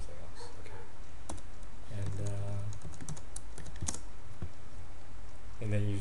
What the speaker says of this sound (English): So you just start typing here